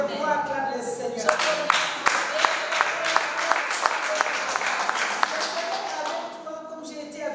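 A church congregation at a Wednesday prayer gathering claps in rhythmic acclaim, steady sharp hand claps over singing and voices, loud and lively before tapering off near the end.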